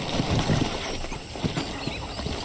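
Horse hooves clop along at a steady walking pace in Red Dead Redemption over a constant background hum, with no one speaking.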